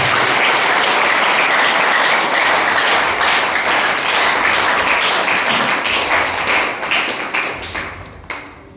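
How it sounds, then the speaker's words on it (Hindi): Loud, dense applause from a church congregation at a Hindi-language sermon, sustained for most of the clip before thinning into scattered claps at the end. "आइए उसका जोरदार तालियों से स्वागत।"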